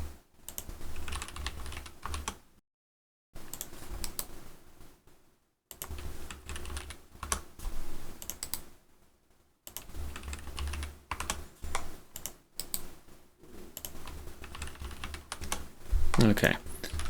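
Steady typing on a computer keyboard that has no function keys, a run of close clicks and key taps broken by brief pauses, while software is built in a game engine.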